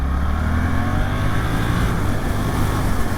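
A Suzuki GSX-8S naked motorcycle accelerates hard with quick-shifter upshifts: a loud, close, continuous engine drone mixed with rushing wind noise, with no one talking.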